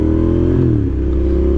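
A Suzuki TL 1000 superbike with twin Yoshimura exhausts revs loud and close, its deep engine note sliding down briefly before holding steady.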